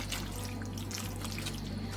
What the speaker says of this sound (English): I'm gonna add another cup of that reserved chicken water